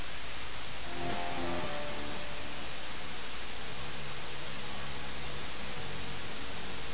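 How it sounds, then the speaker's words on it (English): Loud, steady TPDF dither noise forms a hissing floor that nearly buries faint tonal audio underneath, alone with no voices. "the amplitude of a noise floor with the audio completely buried under the noise"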